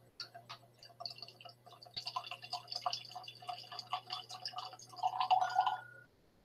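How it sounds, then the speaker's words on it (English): Buchanan's Deluxe 12 Year whisky drips slowly from the bottle's pour cap, giving close, quiet, irregular ticking drops that quicken toward the end, with no talk. "Look, see, it's barely dripping."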